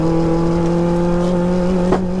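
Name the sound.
turbocharged 1L Nissan Micra downshifting, exhaust sound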